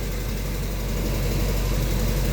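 A Triumph Spitfire engine idles with a continuous low, steady rumble close by, loud and unchanging, with no talk over it.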